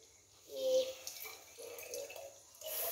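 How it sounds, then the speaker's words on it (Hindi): Tap water runs into a bottle being filled to water houseplants, a moderate splashing and trickling stream with short pauses, while a person speaks softly over it. "गाइस मैं पानी भर के मिलता हूँ।"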